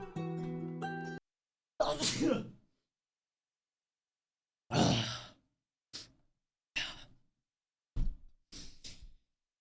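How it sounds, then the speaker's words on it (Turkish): A short musical snippet, then several sharp breathy bursts of a sneeze, separated by pauses, close to the microphone. "Hapşıracağım."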